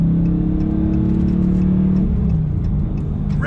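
A Dodge Challenger R/T with a 6-speed manual revs in a close, loud engine drone that holds steady, then drops in pitch as it downshifts on a bend.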